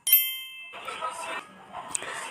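A bright notification bell dings once at the start, a clear ringing tone that fades, followed by faint background noise from a home kitchen setting.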